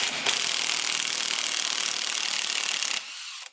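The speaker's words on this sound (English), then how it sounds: "Alright, let's get the flywheel off of here. Alright, trying to get this flywheel nut off here." A Yamaha YFZ450 big-bore ATV's flywheel nut is worked loose with a rough, continuous grinding, ratcheting rattle that runs steadily for about three seconds up close, then cuts off to a quieter hum.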